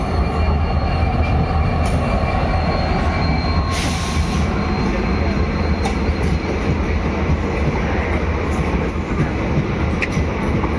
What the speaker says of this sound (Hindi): WDP 4D भगत की कोठी लोकोमोटिव के साथ आ रही है 54789 रेवाड़ी बीकानेर पैसेंजर राजल देसर के प्लेटफॉर्म नंबर 2 पर